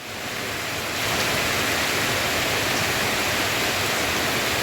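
Steady, dense hiss of rain falling, swelling slightly at the start and then holding constant and fairly loud, with no voices.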